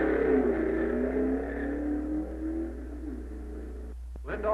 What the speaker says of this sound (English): A gas dragster gets away.